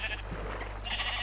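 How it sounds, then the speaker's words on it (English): Minecraft sheep bleats, two short bursts at the start and end over a steady low hum, moderately loud and close, with no speech. "Hello, sheep. I need your wool."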